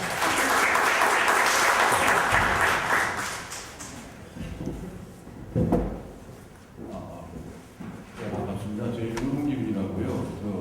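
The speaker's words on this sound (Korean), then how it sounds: "박수를 맞아주시겠습니다" An audience at a lecture hall claps to welcome a professor, a dense round of applause that fades after a few seconds into scattered taps, shuffling and low talk.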